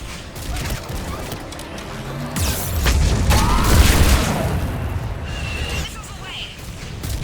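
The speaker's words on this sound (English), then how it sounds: "Missiles away." Missiles launch in the Mass Effect 3 video game, a run of heavy booms and whooshing blasts swelling to a loud peak midway, under game radio chatter and effects.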